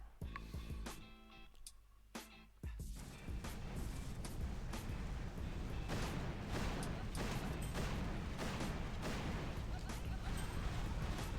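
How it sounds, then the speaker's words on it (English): Boom Beach video game combat with boom cannons and a rocket launcher firing, a dense run of repeated booming blasts and impacts over a steady rumbling bed, loud and continuous after a brief quieter opening. "This rocket launcher has boom cannons here"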